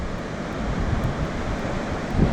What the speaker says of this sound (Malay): ombak dia padu geng.